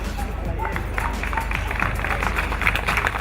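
A crowd applauding at a Croatian picnic in Wrocław marking Croatia's entry into the European Union, steady outdoor clapping mixed with crowd murmur and background hubbub.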